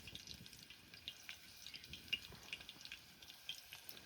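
Water poured from a vessel over poha in a sieve outdoors in a field, a light trickling and dripping splash with small irregular spatters, fairly quiet and close, with no talking.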